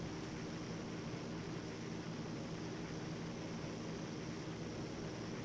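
Aircraft engines droning in a FlightGear flight simulator game, a group of about seven planes flying together over the Caucasus; a steady, even broadband hum fills the whole stretch with no talk.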